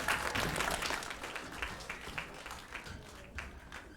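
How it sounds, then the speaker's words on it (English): A concert audience applauds a girls' school orchestra: steady, dense clapping that starts full and gradually thins and fades over a few seconds, with no talking. "please let's give them one more round of applause from St George Girls' School and their orchestra"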